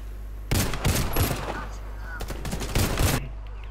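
Video game gunfire in sharp, loud bursts of rapid shots, two main volleys separated by a short lull, with someone speaking over the action.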